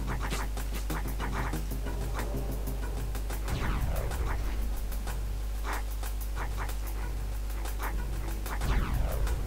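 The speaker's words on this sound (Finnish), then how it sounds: "Moro, koiria!" Caged dogs in the platform game Abe's Exoddus panting and snuffling in quick repeated bursts, with occasional whimpers and scratchy yelps over a constant low hum.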